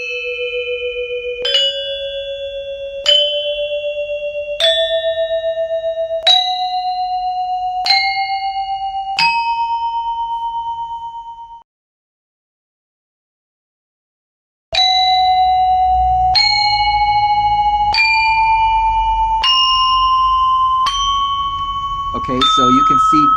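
Balinese gamelan bronze metallophones sounding one scale: six struck notes stepping upward, each ringing with a shimmering overtone, a silent pause, then another upward run of struck tones ending in a quick flurry.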